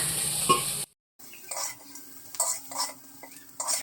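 Shrimp heads and spices fry in a pan. A loud hiss cuts off abruptly, then quieter sizzling returns with a series of spatula scrapes and stirring clinks against the metal.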